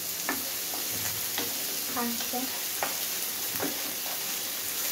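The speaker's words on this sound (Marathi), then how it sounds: "कांदा आणि टोमॅटो टाकून घेऊया। आपण हलवूया आता" Onion and tomato are stirred in a pan for spicy masala Maggi, giving a soft sizzle with sparse spoon scrapes and knocks, plus a brief squeaky tone midway.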